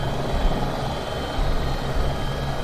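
Steady turbine whine and rotor drone of an AS350B3e helicopter in X-Plane 11, flying in the Himalaya near Lukla airfield, continuous and fairly loud with no talk.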